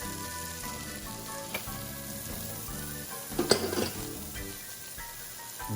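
Butter and garlic sizzle steadily in a pan, a close, continuous frying hiss with a few brief clinks and stirring knocks midway, no voices over it.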